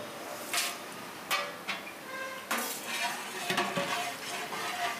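Onions, green chillies and spices fry in sunflower oil in a large pot for a 10 kg batch of chicken biryani, with a steady sizzle broken by repeated metal scraping and stirring clanks.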